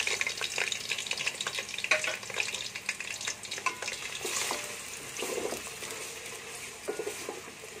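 Onions fry in oil in a deep cooking pot, a steady crackling sizzle with bursts of spatter and occasional scraping stirs, close and continuous with no voices.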